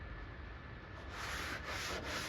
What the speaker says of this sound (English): Don't push real hard, just kind of let the block sander do its work.